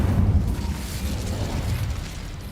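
An Incendio fire spell in Hogwarts Legacy bursts into a loud, dense rumbling blast that holds for a couple of seconds and fades slightly toward the end.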